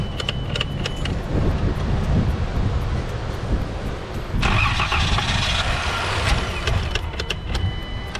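A car's engine cranks and strains to turn over with rough, irregular sputtering and a harsh rising burst partway through, close by and loud against outdoor wind noise.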